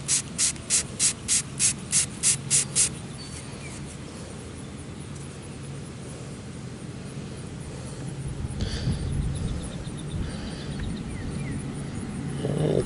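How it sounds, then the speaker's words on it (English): A water sprayer hisses steadily as it rinses dirt off a freshly dug silver Mercury dime at a metal-detecting site. A quick series of rhythmic ticks comes first, then the hiss swells louder and rougher toward the end. "Let me spray it off a little bit."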